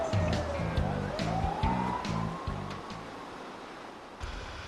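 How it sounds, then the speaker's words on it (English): A wailing siren sweeps up and down in the distance over a rhythmic low thumping and traffic noise. "Let's let this siren get out of here."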